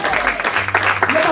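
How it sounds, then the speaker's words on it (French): Church congregation applause at a worship meeting, steady dense clapping filling the whole moment, with voices and cheering mixed in. "Un bon applaudissement."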